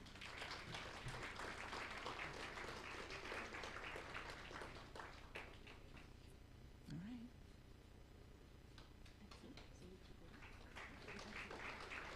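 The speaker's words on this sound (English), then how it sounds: "A round of applause, everyone" Applause at a business launch event in Kenya, a quiet, distant patter of clapping from a gathered audience that fades in the middle, then picks up again toward the end, with faint murmuring voices under it.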